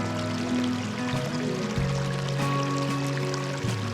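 Water gushing steadily along a forest trail in Germany's Black Forest, a continuous rushing flow with sustained tonal hum layered beneath, no speech.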